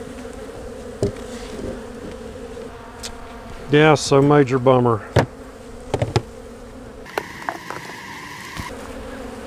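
Honey bees at a starving hive giving off a steady low hum close by, with scattered clicks and knocks of handling, while a person speaks briefly over it.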